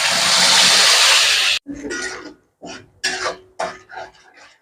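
Ground spice mix hits hot oil with bay leaves in a pan for Bengali aloo dum, a loud steady hiss for over a second, then several short sizzling, stirring bursts with gaps between.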